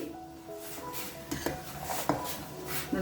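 A spoon knocks and scrapes in a pan while bottle gourd curry is stirred in oil, giving several sharp metallic clinks at an irregular pace over a low background hum.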